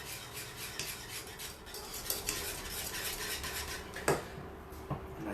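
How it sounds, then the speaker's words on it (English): Spoon stirring zucchini polenta in a cooking pot, with close soft scraping and rubbing strokes and a couple of sharper clinks against the pot. "Give this a stir."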